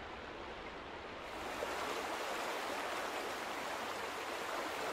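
Water flows in The Vanishing of Ethan Carter near a dam, a steady broadband rush that swells louder after the first second and holds constant with no speech.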